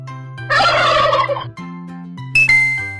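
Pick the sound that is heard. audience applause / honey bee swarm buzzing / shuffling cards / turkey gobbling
turkey gobbling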